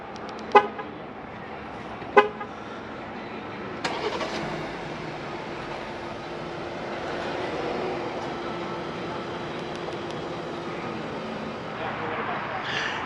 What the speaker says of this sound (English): To operate is simple, just double press the remote start button on the key fob.